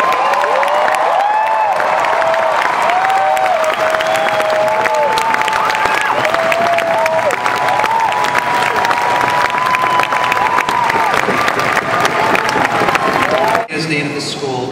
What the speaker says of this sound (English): you can applaud, that's fine